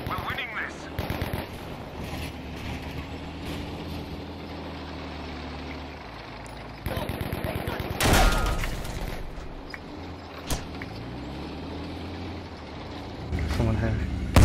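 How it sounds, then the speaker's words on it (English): Gunfire crackles in a Battlefield V match, with scattered bursts and single loud shots breaking through engine rumble and in-game voices, some shots close and sharp, others more distant. "Careful, you're being shot at."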